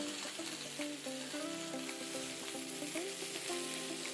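Egg and brinjal mixture stirred in a pan over a low to medium flame with salt, turmeric, black pepper and garam masala, giving a steady close sizzle with light scraping and no talk.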